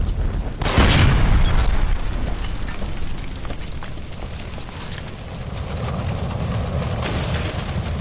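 A gas line blows up in the game L.A. Noire: a sudden loud boom erupts near the start, then a long rumbling roar and crackling debris trail off over several seconds.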